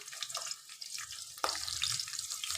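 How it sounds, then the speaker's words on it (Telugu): Chopped onion dropped into hot oil for a cabbage and pea curry, a sudden sizzle that keeps crackling steadily and fairly close, following softer kitchen clatter and no talk. "ఇప్పుడు ఆయిల్ అయితే హీట్ ఎక్కింది, ఆనియన్స్ అయితే వేసుకోవాలి."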